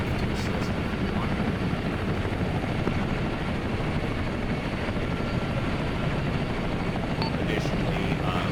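Military helicopters fly with a loud, continuous rotor and engine roar that stays even and close throughout.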